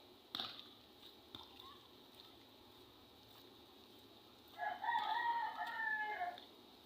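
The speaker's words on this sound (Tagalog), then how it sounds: "Pasinsa na kayo sa manok guys kasi mayroong nagdala ng manok dito." A rooster crows loudly nearby in one long drawn-out call at the seaside by SM Mall of Asia, preceded by a few scattered knocks and faint clucking against quiet background noise.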